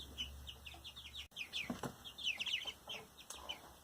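Young chicks in a brooder box chirping continuously, many high, quick peeps overlapping in a busy chorus, close and fairly loud with no voices.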